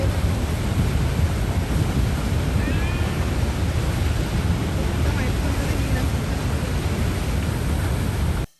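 Horseshoe Falls at Niagara gives a dense, broadband roar of falling water, loud and steady throughout with wind buffeting the microphone. It cuts off abruptly at the end.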